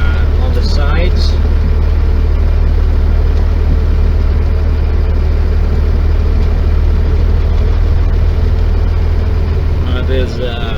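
An International 9400 truck's engine drones low and steady while driving through Chicago city streets, with someone talking over the constant rumble.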